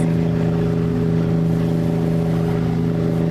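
Steady, loud drone of a vintage wooden motorboat's engine running close by on Skaneateles Lake, a constant low throbbing hum with no pauses and no voices.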